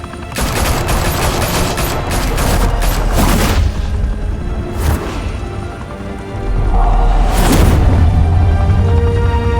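Gunfire erupts in Batman: The Telltale Series, a loud fusillade of rapid shots and booming blasts crowding the first few seconds, then sporadic bursts and a heavy explosive crash near the end over a low rumble.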